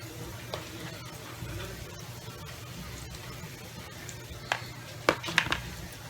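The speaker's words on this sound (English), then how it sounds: "I'm about to fry this bread." A batch of bread batter fries in a pan like a pancake, giving a low steady sizzle with a few sharp utensil clinks and scrapes against the pan near the end.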